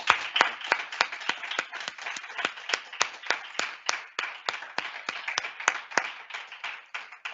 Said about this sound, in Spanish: Yo creo que se merece un aplauso